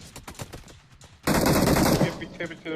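UMP45 submachine gun fire in a battle royale game: a loud, dense burst of automatic shots erupts after quieter game sounds and holds for under a second before tapering off.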